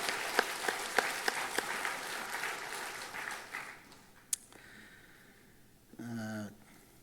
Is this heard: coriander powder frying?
no